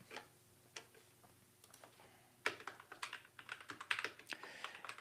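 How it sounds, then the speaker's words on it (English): Fingers tapping a computer keyboard with sparse, scattered keystrokes at first, then a quicker, denser run of clicks, close but quiet, no talking. "if you're wondering what I'm typing here"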